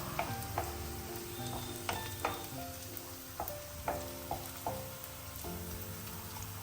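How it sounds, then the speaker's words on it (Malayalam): Low-flame frying in a pan, steady soft sizzling broken by repeated light clinks of a spoon stirring against the metal, close and continuous without speech. "ലോ ഫ്ലെയിമിൽ ഒരു 10 മിനിറ്റോളം ഞാനിങ്ങനെ വറുത്തെടുത്തിയാണ്"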